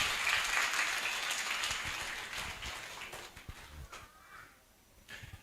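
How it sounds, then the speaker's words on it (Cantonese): An audience of parents and teachers at a primary school variety show applauds the students who just performed, with a dense wash of clapping that fades out over several seconds, leaving a few stray claps. "俾啲掌聲我哋啱啱嘅同學仔先好唔好啊？"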